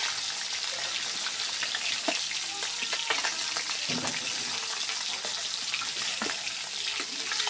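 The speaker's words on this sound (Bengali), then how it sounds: "সুন্দর করে আমরা মাথাগুলো আগে ভাজে নিব।" Rohu fish heads fry in hot oil with a steady, dense sizzle and crackle throughout, plus a few sharper pops and utensil scrapes; no talking.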